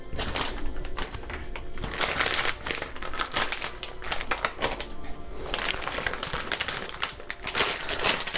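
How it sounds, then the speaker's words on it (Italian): Plastic sous vide bags crinkle and rustle steadily up close as rolled chicken involtini seasoned with thyme are packed into them one per bag, dense crackling handling noise with no talking. "ora li andiamo a mettere nel sacchetto sottovuoto"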